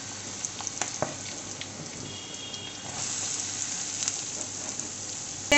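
Chopped onion hits a hot pan already holding ginger, garlic and chili for a prawn curry, giving a steady soft sizzle and hiss with a few faint clicks and a sharp knock at the very end.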